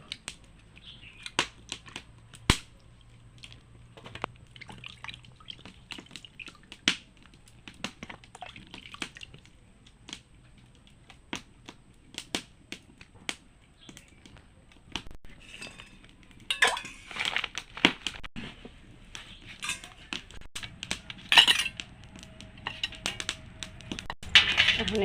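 Papaya pieces being washed in water in a bowl, with scattered small clinks, splashes and drips of the pieces and container knocking, close and intermittent over faint background.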